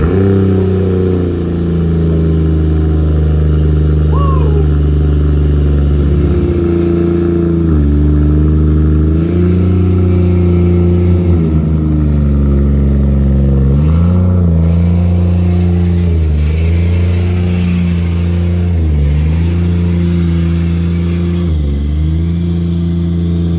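A Toyota Chaser JZX100 engine runs loud and close as the car drives, with a steady mid-pitched drone that rises and dips through several throttle blips and gear changes.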